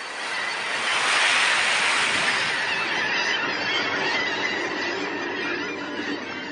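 Ocean surf surges steadily onto a shore where semipalmated sandpipers forage for crab eggs, a continuous close roar of breaking water that swells slightly and then holds.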